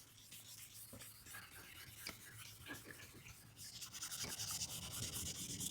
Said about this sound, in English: This one little corner we will have to hand sand.